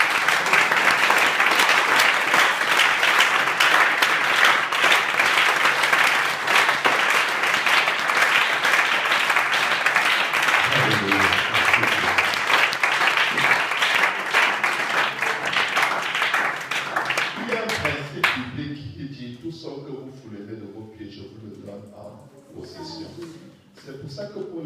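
A church congregation bursts into sustained applause and cheering, loud and dense for most of the stretch, then thinning out as a preacher's voice returns near the end.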